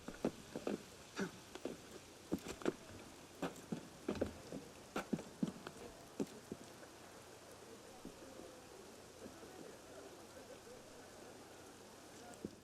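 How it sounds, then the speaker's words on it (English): Rain falling in the Assassin's Creed Unity video game, a faint steady patter with scattered sharp drips and taps across a rooftop setting. "Oh, it's raining."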